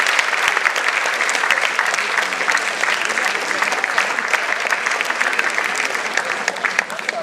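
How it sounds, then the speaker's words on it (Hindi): Sustained, dense applause from a large audience at an annual awards program honoring a student's achievement, loud and continuous throughout with faint voices underneath. "एक बार जोरदार तालियां हो जाए इसके लिए"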